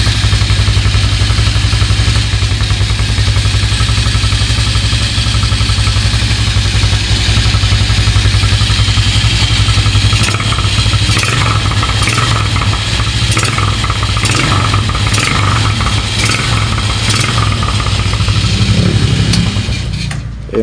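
A Motorstar motorcycle engine runs near the microphone with a steady low idle rumble that holds throughout, joined later by a few brief bursts of mechanical rattle, with no voices.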